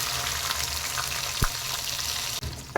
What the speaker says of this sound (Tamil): இப்போ வெங்காய பேஸ்ட் வந்து நல்லா வதக்கிடணுங்க, பச்சை வாடை போகிற அளவுக்கு.